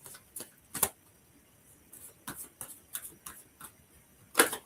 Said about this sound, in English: As I give the cards a quick shuffle,